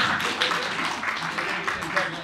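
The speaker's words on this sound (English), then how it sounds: "Can you please give our experts a round of applause?" A seated audience claps for a panel of experts, a dense, steady patter of many hands at a moderate level, with a few louder swells and no break across the short stretch.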